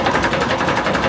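Steady running drone of a sailboat's repaired inboard engine, loud and close with an even pulsing rhythm, heard alone while motoring up the Fraser River toward Vancouver.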